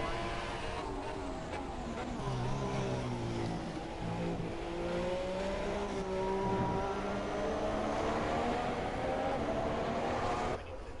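An F1 2017 race car engine whines past in the game, its close, rising and falling tones sweeping across several seconds while a commentator talks over it.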